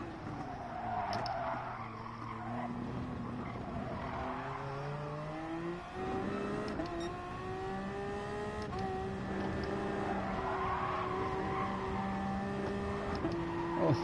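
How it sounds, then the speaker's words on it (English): Race car engine revving hard in a racing video game, a loud continuous whine climbing and dropping through repeated gear shifts, with tire squeal mixed under the engine note. "Right, rev it out more."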